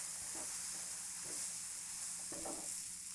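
Flour being stirred into sausage oil in a pan to start a gravy, heard as a soft continuous sizzle with a few quiet scraping strokes, faint and without speech.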